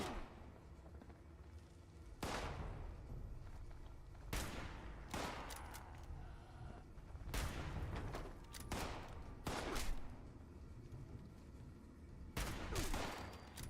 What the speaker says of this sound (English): Excuse you, I'm shooting at your friend.